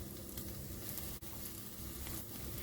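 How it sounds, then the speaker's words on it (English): Three cloves of garlic cooking in a pot, a soft, steady sizzle with a faint hissing crackle throughout and a tiny gap partway through, no voices. "We're going to add in 3 cloves of garlic. And let that cook for just 1 minute."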